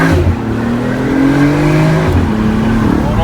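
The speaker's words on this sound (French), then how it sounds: "On entend vraiment bien les turbos." A turbocharged sports car engine revs loudly and close, rising and falling with the whoosh of the turbos blowing between throttle blips, with no talk.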